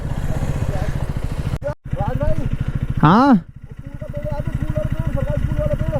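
A Kawasaki H2R motorcycle engine idles with a loud, rapid throb before a drag race, briefly cutting out, then giving a sharp rev before settling back, while people talk nearby.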